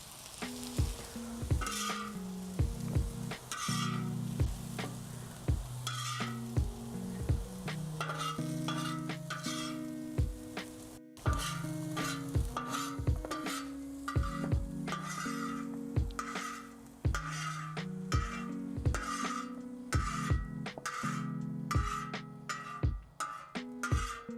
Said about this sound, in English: we're gonna put these back in the pan and let these crisp up